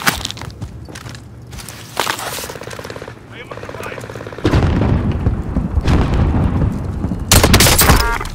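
Gunfire and booming blasts in a first-person video game shooter, loud and dense with bursts of rapid shots and a heavy explosive section near the end, with radio-style voice chatter over the action.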